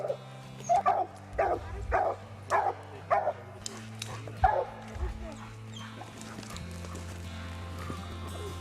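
Raccoon hunting dogs bay at a treed raccoon during a youth competition hunt, a string of about six loud, evenly spaced bays, then fainter scattered yips and whimpers over steady low background noise.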